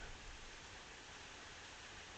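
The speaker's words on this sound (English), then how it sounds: "Still raining." Steady, even hiss of rainfall, faint and constant throughout, with no voices or other distinct sounds.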